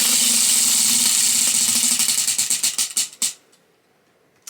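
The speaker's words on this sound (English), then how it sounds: "let's go ahead and do spin number 1" A prize wheel spins to choose a book, its rapid clicking gradually slowing into separate ticks before it comes to a stop, loud and close with no voices.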